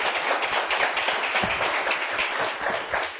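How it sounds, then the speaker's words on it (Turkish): A Kelime Oyunu game show studio audience gives thin, scattered applause, a soft continuous patter of clapping with no voices. "O ne kadar cılız bir alkıştı."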